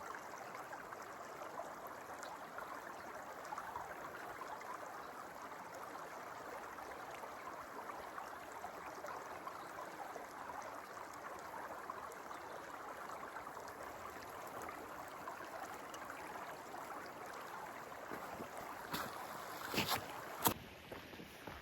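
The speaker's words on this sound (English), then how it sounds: "The sound of the water is so peaceful" Creek water flowing beside a hiking trail at Henry Coe, a steady, soft rushing that stays even throughout, with a couple of faint knocks near the end.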